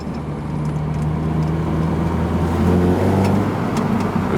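A 2022 Subaru BRZ/GR86 fitted with a 1320 front pipe drives along a rough road, its steady engine drone holding close and loud throughout with a slight rise in pitch toward the end.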